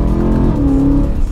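A BMW E92 M3 with a naturally aspirated engine revs hard, a loud close engine note that climbs and holds a high pitch before easing off, with no talk over it.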